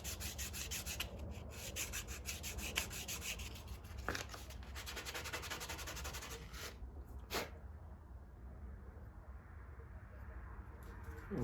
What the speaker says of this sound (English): Take some 450 grit sandpaper, and I'm just going to sand that down on the inside.